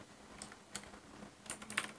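Someone types on a computer keyboard in quick, irregular bursts of soft, close key clicks at a quiet level.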